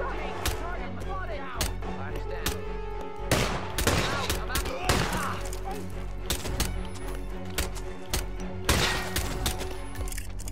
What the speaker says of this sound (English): Sniped her with the pistol.